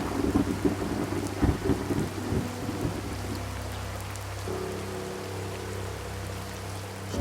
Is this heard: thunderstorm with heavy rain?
yes